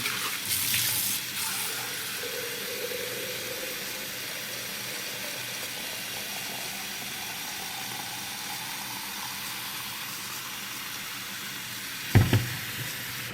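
A pineapple is washed under running tap water, giving a steady soft hiss of flowing water throughout, with a brief clatter near the end.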